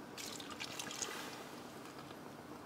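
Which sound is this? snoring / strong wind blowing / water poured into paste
water poured into paste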